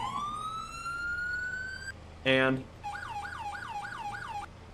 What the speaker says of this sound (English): we also have a couple sirens